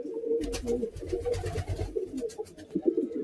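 Pigeons sold as racing birds coo repeatedly after being released, soft throaty calls close by, layered with wingbeat-like flutters and light handling noise, with no one speaking.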